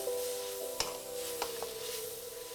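Noodles for vegan pad thai stirred through in a pan, a steady soft sizzle with a couple of sharp utensil scrapes and taps against the pan, close and fairly quiet, no talking.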